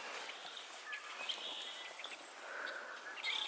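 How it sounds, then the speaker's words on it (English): Birds singing outdoors during a snowstorm, with a steady stream of thin chirps and short song phrases at a moderate distance over a soft background hiss, and no one talking. "All the birds are out and singing."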